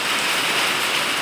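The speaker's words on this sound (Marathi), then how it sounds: "हा बघा पाऊस, जोरदार पाऊस चालू झालाय" Heavy rain pours down, a dense, loud, steady hiss of drops hitting surfaces close by, with no voices.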